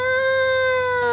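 A human voice imitates a passing siren's Doppler shift, a loud, steady, close wail held on one pitch that dips slightly lower toward the end, mimicking a source approaching and then moving away.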